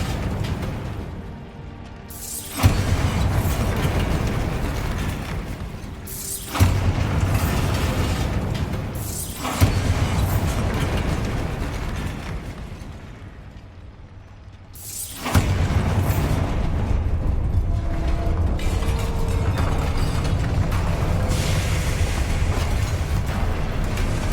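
Bombarda spell explosions in Hogwarts Legacy, four heavy booming blasts a few seconds apart, each followed by a long roaring, shattering rumble that stays loud between hits, with no speech.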